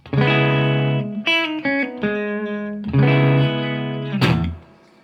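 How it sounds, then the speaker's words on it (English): Electric guitar through a Fender Tone Master amp rings out sustained clean chords and a slide with a light, spacious reverb tail, played solo and fairly loud. "But for now, we're just going to keep a dash of reverb."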